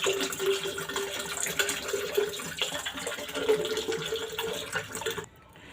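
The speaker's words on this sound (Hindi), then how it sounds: "शामिल कर देंगे ठंडा पानी।" Cold water splashes and gurgles steadily into a jug of almond sharbat for about five seconds, a continuous broadband pouring sound that stops abruptly near the end.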